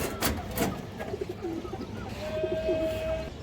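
Soft, low pigeon coos repeat close by in short rolling phrases, with a faint background hum.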